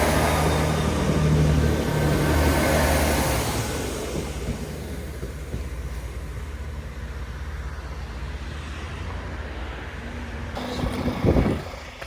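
Large coaches driving past on a road around Exmouth, one passing loud and close at the start with a broad rumbling roar that fades into steadier traffic noise, then another brief surge near the end.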